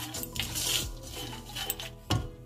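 Poppy seeds go into a pan of roasting khoya, semolina and desiccated coconut for modak, with a spoon stirring and clinking sharply against the metal pan a few times, close and without talk.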